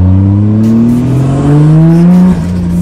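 A BMW E30 drift car, engine already warm, revs hard and close, its loud tone climbing steadily before a brief dip near the end.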